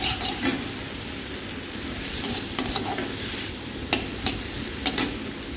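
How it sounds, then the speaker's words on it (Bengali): Chili, onion and garlic paste stir-fried with prawns in a pan, a constant close sizzle broken by sharp spatula taps and scrapes against the metal, no talking. "ভালোভাবে নেড়ে চেড়ে হালকা করে কষিয়ে নিচ্ছি। লঙ্কা পেঁয়াজ রসুন দিয়ে কষিয়ে নেব।"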